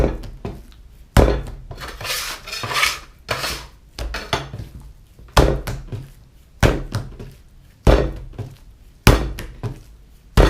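Sourdough white bread dough kneaded by hand after salt is worked in, giving a run of heavy, rhythmic thumps and slaps about once a second, with soft sticky squelching between strokes.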